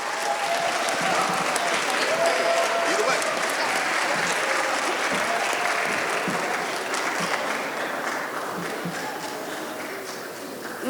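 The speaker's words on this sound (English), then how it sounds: "let's give Cecilia Corrales a round of applause" A school audience gives sustained applause for firefighter Cecilia Corrales at a senior school program, a dense, loud wash of clapping from many hands that holds steady and tapers slightly, with voices mixed in.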